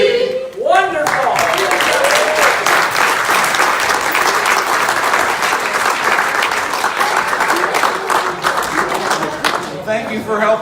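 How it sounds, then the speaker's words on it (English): A concert audience applauds a men's barbershop chorus after a Christmas song. The clapping is loud, dense and sustained for about ten seconds, thinning slightly at the end, with a short voice at the start. "How many of you were clapping just because it was over?"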